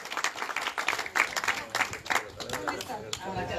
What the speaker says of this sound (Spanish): Fuerte el aplauso para la señora Aurora Dulanto